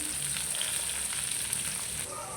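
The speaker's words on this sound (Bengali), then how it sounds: "এই যে সব মাছ দিয়ে দিলাম।" Pangasius fish fry in hot oil with a continuous, even sizzle, close and unbroken for the whole short stretch.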